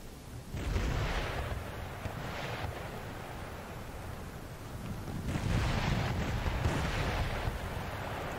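Cannon fire in Empire Total War's naval battles, heard as repeated broad booming volleys that swell and roll over a constant sea-like roar, loud throughout.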